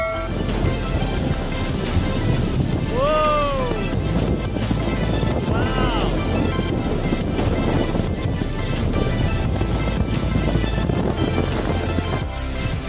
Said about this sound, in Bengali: বেশ বড় বড় ঢেউ দেখতে খুবই সুন্দর লাগছে